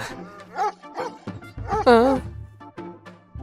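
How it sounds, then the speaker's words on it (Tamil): Dogs bark and whine at night, a few yips and a rising, wavering howl-like whimper, fairly close and irregular, with some background murmur. "இந்த டைம்ல இந்த நாய்ங்க ஏன் கத்தின்னு இருக்கு"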